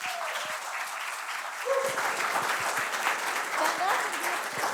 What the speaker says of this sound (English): Let's give a round of applause for Stefano, too.